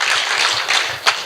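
An audience at a talk-show event applauds with a steady wash of clapping that holds for about a second before one louder clap stands out at the end.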